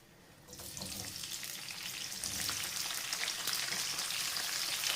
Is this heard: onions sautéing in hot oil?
yes